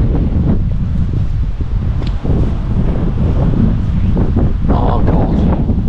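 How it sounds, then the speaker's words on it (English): Wind gusting by the River Dee at Llandderfel, Wales, during fly fishing, a loud, steady buffeting roar across the microphone with rustling from a tree nearby and no voice heard. "I need to wait for the gap when it will stop making wind to make it cast."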